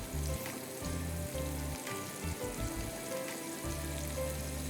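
Prawns sizzle and crackle steadily in a hot pan of oil, a continuous close frying hiss with low bubbling and no talk over it.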